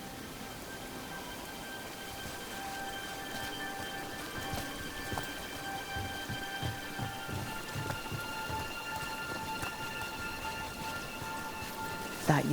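Steady rainfall hisses in Dragon Age: The Veilguard, dense and continuous with scattered heavier drops and faint hoof-like clops, rising briefly at the very end.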